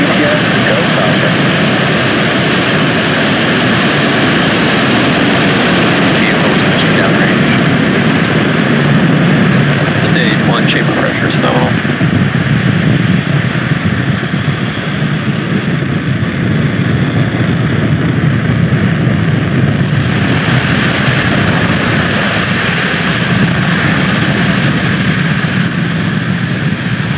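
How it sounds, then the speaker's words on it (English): A Falcon 9 rocket lifting off from Pad 40 at Cape Canaveral Space Force Station carrying a GPS III satellite, with a loud, steady, broadband engine roar that fills the whole stretch without letting up. "Engine full power. And lift off of Falcon 9."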